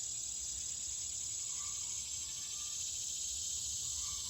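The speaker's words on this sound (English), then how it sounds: "I guess it's crickets. That grasshoppers, crickets." Crickets and grasshoppers chirp in a dense, steady high-pitched drone, continuous and unbroken, with faint background noise underneath.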